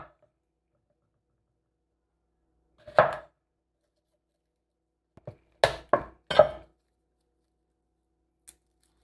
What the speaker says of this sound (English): I'm just going to cut the stems off these and peel the garlic.